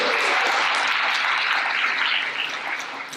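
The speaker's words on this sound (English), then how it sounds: "Another round of applause for this guy." Loud, dense applause from a corporate fireside chat audience for a speaker, a close wash of many hands clapping that stays strong throughout with a slight dip toward the end.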